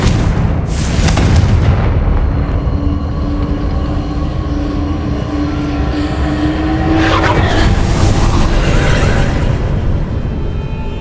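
A Confringo fire spell is cast in the Hogwarts Legacy video game, a loud, dense roaring blast with a sustained ringing tone that ends in a sharp burst near the end, with no talking.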